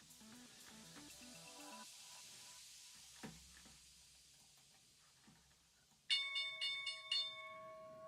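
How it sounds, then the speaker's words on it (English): A stock market opening bell rings out suddenly and loudly after a quiet stretch, sounding several bright, rapid metallic strikes that ring on with a sustained tone. "there's our opening bell."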